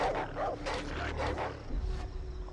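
Dogs bark in the Far Cry 3 video game, several quick yelps and barks sounding at mid distance over a busy game soundscape.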